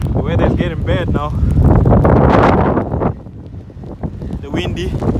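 Strong, gusty wind buffets the microphone during a bike ride around Sligo in worsening weather, a continuous roar that swells mid-clip and eases, with someone talking over it at the start and end.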